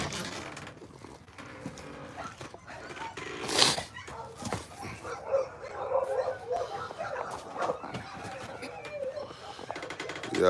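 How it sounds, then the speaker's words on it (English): Dogs bark and yip at a dog-care business, scattered sharp calls with some whimpering, moderately near over a noisy background with voices and movement. "Yeah, I hear them dogs."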